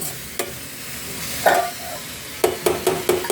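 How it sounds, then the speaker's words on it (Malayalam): A spatula stirs a chayote and coconut thoran in a pan, making a few scraping strokes and then a quick run of rhythmic clacks over a soft sizzle, heard close up with no talking. "അത് ഇടയ്ക്കൊന്ന് ഇളക്കി കൊടുക്കണ്ടേ"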